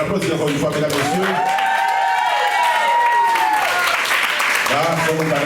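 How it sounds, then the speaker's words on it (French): Audience at a class reunion of the Institution Sacré Coeur de Turgeau, class of 1986, applauds steadily throughout, with a loud voice speaking or singing over the clapping. "Alors, on applaudit encore une fois, mesdames et messieurs."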